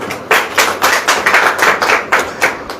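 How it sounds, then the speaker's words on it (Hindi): Audience clapping in steady rhythmic unison at a Christian prayer gathering led by Brother Rohit Massey, a dozen or so sharp, close claps in quick succession with no talking. "ताली वाली बजाओ।"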